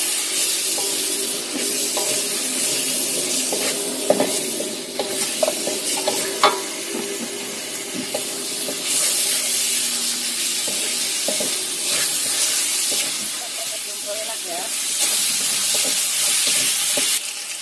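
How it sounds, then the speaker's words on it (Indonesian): Steady sizzling of ingredients frying in a pan, with the scrape and clatter of stirring coming through at close range. "Kita tumis sampai matang."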